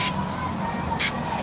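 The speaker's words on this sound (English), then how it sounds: "I'll go ahead and I'll apply a little more spray adhesive" Spray adhesive bursts from a can onto foam while a padded boffer weapon is being assembled, two short sharp hisses about a second apart, close and loud.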